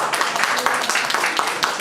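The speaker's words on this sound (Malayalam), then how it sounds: "എണീറ്റ് നിന്ന് കൈയടിക്കണം" Audience applause at a Malayalam stage event, dense and continuous clapping for the whole stretch, loud and close with no voices standing out.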